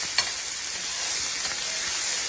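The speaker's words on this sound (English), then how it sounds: "And I am just going to fry that up until the onion is translucent." Sweet Vidalia onions and garlic frying in a pan for sausage and sweet potato soup, giving a steady, even sizzle and hiss with faint stirring scrapes, close and alone.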